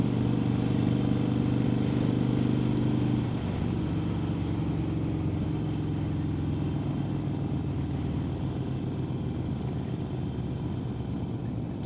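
Motorcycles riding together on a memorial group run, heard as a continuous drone of several engines, loud and steady, with a deeper rumble easing a few seconds in.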